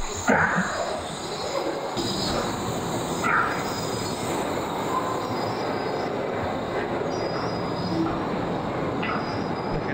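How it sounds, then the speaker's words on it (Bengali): Wuppertal suspension railway train rolling past in Germany, a loud, steady rumble of rail traffic with wheel squeal running through nearly the whole stretch, close by and continuous. "এই যে ট্রেনটা এদিক দিয়ে গেল"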